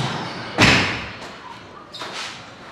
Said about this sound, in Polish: Chciałem zapukać drzwi.